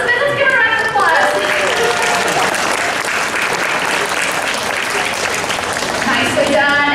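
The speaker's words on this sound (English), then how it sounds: "Let's give her a round of applause" Loud applause from a zoo bird show audience fills the whole stretch, steady and dense, with voices talking faintly underneath.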